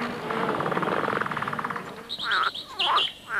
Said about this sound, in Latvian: Dzied tikai putni, kas atlidojuši vēlu, piemēram, lakstīgalas un griezes.